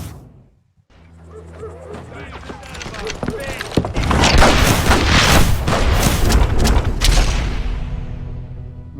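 Western-style gunfire and booming blasts in the video game Call of Juarez Gunslinger, a loud, dense burst of shots and explosions following a quieter opening, with a voice heard early on.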